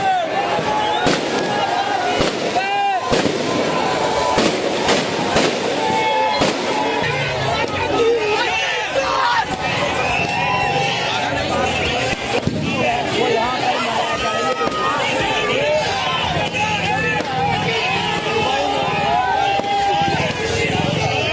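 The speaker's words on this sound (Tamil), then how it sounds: "பட்டாசுலாம் வெடிச்சு வேற லெவலில் இருந்துச்சு." Firecrackers burst loudly and repeatedly in Jammu during a street celebration of India's Asia Cup cricket win over Pakistan. The crackling blasts mix with crowd babble and shouting voices throughout.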